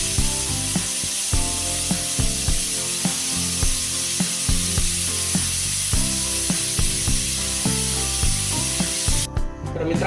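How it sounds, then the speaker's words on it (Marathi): Pressure cooker on a gas stove cooking pea bhaji, a loud continuous hissing spray of steam with a rough rushing texture, cutting off near the end, no voices. "तर मित्रांनो, आपली 1 शिट्टी झालेली आहे."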